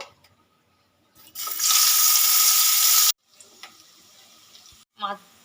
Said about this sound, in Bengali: তেল গরম হয়ে গেছে তেলের মধ্যে মাছ দিয়ে দেব